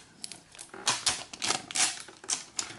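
Protective plastic film is peeled off a Plugable USB-C Cube docking station, giving a quiet series of crackling, crinkly tearing bursts close up, with no talk.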